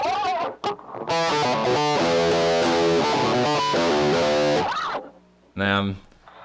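Heavily distorted electric guitar chords through a Roland Cube amp on its metal setting ring out loud and dense, followed by a brief pause and a short final hit.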